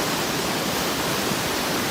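Water rushing steadily through a lock on the River Thames, a continuous, fairly loud broadband roar with no breaks and no voices.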